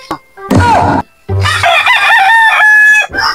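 A rooster crows loudly and close by, a short burst followed by a long full cock-a-doodle-doo, with a little clucking around it and no clear talk.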